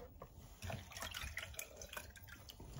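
A potter sponges water out from inside a freshly thrown agateware pot on the wheel, giving soft, close dripping and squelching wet sounds with small splashes throughout.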